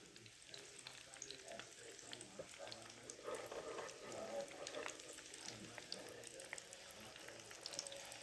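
Egg rolls fry in a pan of oil, giving a soft, steady sizzle with small crackles and pops, faint and continuous throughout.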